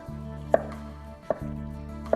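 A knife chops vegetables on a cutting board for a frittata and bruschetta, three sharp, evenly spaced thuds over a low steady hum, close and clear.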